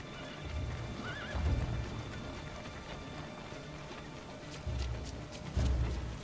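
Hooves thud in short bursts on hard ground while a horse whinnies briefly in Assassin's Creed 2, set against a faint busy background.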